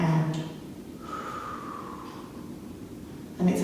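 Slow, controlled breathing out during a breathlessness exercise: a long, soft, steady exhale close up, with brief sharper breath sounds at the start and end and no talking.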